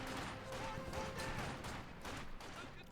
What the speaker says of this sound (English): James being suppressed with a disc heavy machine gun.